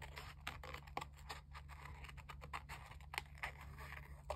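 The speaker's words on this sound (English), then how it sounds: "Are the wings too big? Let's cut some" Scissors snip through recycled craft material while cutting out fairy wings, a quick series of close, light crisp cuts and scratchy scrapes repeating steadily.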